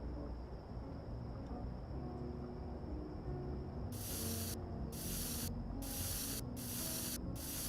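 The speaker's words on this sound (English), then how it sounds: "I'm going to start spray painting everything around here." Spray painting in a video game: a steady hum runs under a series of five sharp, hissing aerosol bursts with short gaps between them, and no one speaks.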